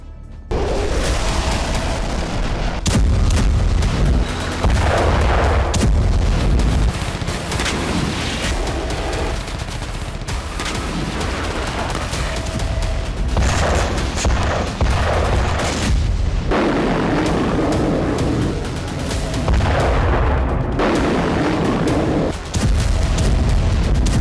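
Heavy gunfire and artillery between IDF and Hamas fighters in Gaza, a sustained roar of loud booms and rapid firing with repeated heavy blasts throughout.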